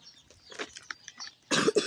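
A few short, quiet coughs, then two louder, harsher coughs close to the mic near the end.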